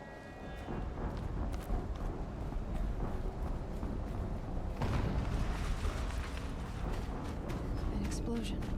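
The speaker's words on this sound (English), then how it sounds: "An explosion." An explosion in the video game Horizon Zero Dawn: a loud, rumbling burst swells about midway through a steady wash of dense game noise, then settles back into the continuous din.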